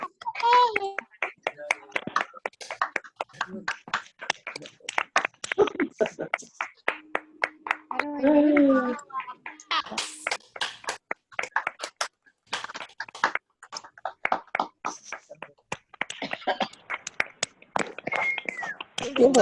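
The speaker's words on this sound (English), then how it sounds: "It's a loud clap." An audience on a video call claps from many separate unmuted microphones, sharp uneven claps piling up in patchy bursts, with voices and cheering mixed in.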